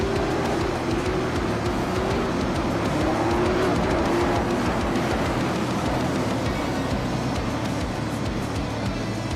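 Race cars at Martinsville short track roar loudly and continuously as the field comes around to start racing, a dense wall of engine noise throughout.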